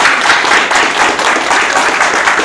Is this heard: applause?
yes